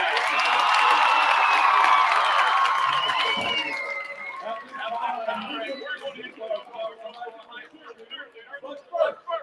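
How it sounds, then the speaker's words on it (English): A crowd at a Jonesboro High School football game applauds and cheers for the school band, a loud broad wash of clapping and voices that fades over several seconds into scattered claps and shouts. "Let's give a round of applause for our Jonesboro High School band."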